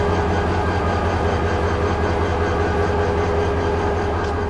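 The Mymensingh Express rolls steadily along the rails at night near Fazilpur station, a loud, continuous low rumble of wheels and wagons with a faint rhythmic clatter running throughout.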